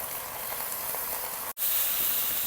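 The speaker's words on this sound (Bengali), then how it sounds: "জলটা পুরাপুরি শুকায়া পাতাটা ভাজা হয়ে গেছে" Kharkol leaves frying in a pan as their water cooks off, giving a steady close sizzle and hiss that runs unbroken, apart from a brief dropout near the middle.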